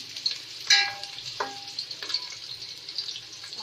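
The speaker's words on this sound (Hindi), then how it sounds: "एक पतीली ली है मैंने, उसमें मैंने आधे प्याली घी लिया है और उसमें मैं प्याज डाल दी है मैंने।" Onions frying in ghee in a pot, a moderate crackling sizzle dotted with irregular sharp pops and spatters, fairly close and without any talking.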